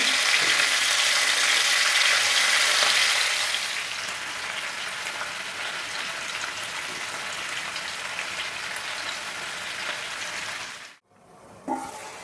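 Chicken pieces for butter chicken hiss and sizzle in a pan as a steady close frying sound, easing slightly after a few seconds; near the end the pieces are turned, bringing a brief dip and a scraping knock.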